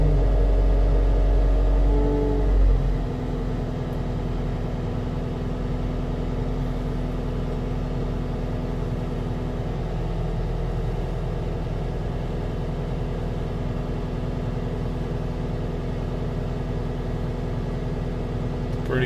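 A skid steer engine runs at a steady idle nearby, a low continuous rumble with a brief louder surge at the start, no talking.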